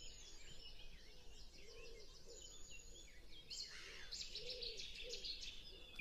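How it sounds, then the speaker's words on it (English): Cetti's warbler bursting into a loud, brief song outburst of repeated notes partway through, set against a background of other small birds chirping outdoors. "That's the Jetty's warbler."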